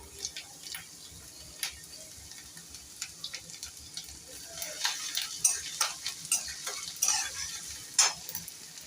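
Chopped garlic and ginger stir-frying in a spoonful of oil on high flame for Chinese bhel, a close crackling sizzle with repeated clinks and scrapes of a spatula growing busier, no speech.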